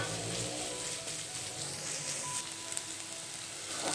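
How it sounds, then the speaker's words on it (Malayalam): Onions sautéing in an open pan for a Kerala-style varutharacha kadala curry give a steady, moderate sizzle that runs without a break and with no talk. "ഇത് നോക്കി നമ്മുടെ സവാളയൊക്കെ നന്നായിട്ട് ഫ്രൈ ആയി വന്നിട്ടുണ്ട്."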